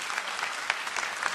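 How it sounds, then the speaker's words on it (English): Applause from attendees at a 2024 ACF industry planning briefing: a brief, moderately loud burst of many hands clapping together, steady and unbroken with no voices over it. "Give them a round of applause"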